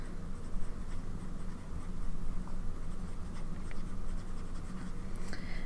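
A broad-nib fountain pen scratches steadily across paper with Taccia Ukiyo-e Hiroshige-Ruri ink, a continuous close, soft nib-on-paper rasp with faint pauses and small strokes, no talking.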